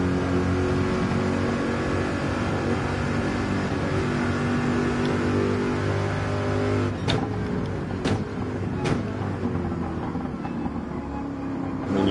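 Porsche racing car engine in a racing video game, a steady loud drone with shifting tones throughout and a few sharp bursts near the end, no talking.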